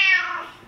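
A cat gives a single short, bright meow up close that fades out quickly.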